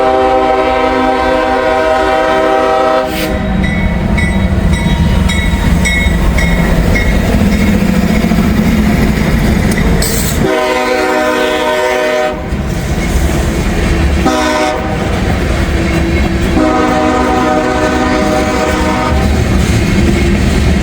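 A loud train rumbles past nearby with rattling wheels and a long horn blowing in repeated blasts, the horn stopping and restarting several times.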